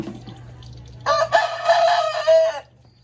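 A rooster crows once, loud and close, a single drawn-out call of about a second and a half after a quiet start.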